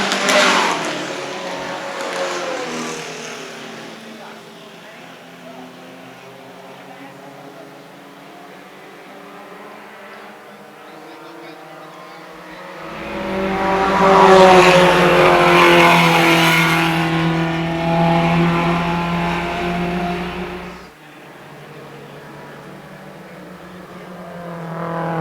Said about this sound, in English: There's a battle of 2 of the Abarth cars there